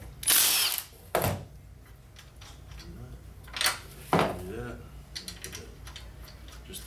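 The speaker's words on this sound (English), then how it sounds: "Undo this bolt here." Power tool, likely an impact driver, undoing a seat bolt on a 2001–07 Ford F-250/350 extended cab: two short loud whirring bursts, then quieter clicks and someone speaking, followed by two more bursts.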